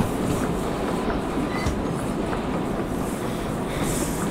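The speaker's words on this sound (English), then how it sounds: "that's for power when you're hauling a steam train" A steam train runs in the Derail Valley VR game with a continuous broad rumble and hiss, faint rhythmic clatter, and no talking.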